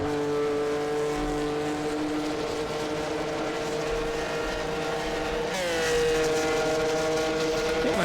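Several racing engines from 1964 sports cars in a racing video game drone and whine steadily, with a loud, unbroken roar and the pitch climbing sharply as one car accelerates near the end.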